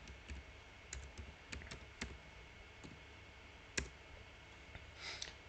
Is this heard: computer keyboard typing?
yes